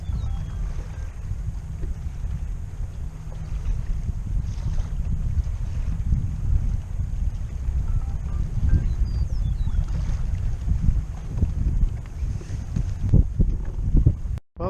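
Steady wind buffets the microphone throughout while flounder fishing, a low continuous rumble that swells and gusts, with no talking.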